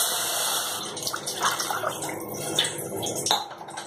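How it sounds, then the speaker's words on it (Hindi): Water is poured into a pan of roasted masala gravy for besan gatte sabji, a moderate splashing, gurgling pour with sizzling bubbles, uneven bursts over a few seconds and no talking. "तो 2 गिलास पानी डालेंगे।"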